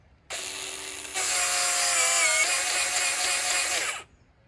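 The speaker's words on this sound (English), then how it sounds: "we're going to go till we hear the knocking noise and let it knock about 3 times" A powered flaring tool works a copper line set for a ductless mini split, giving one continuous ratcheting mechanical whir that steps up in loudness partway through and then cuts off; it is close and heard alone.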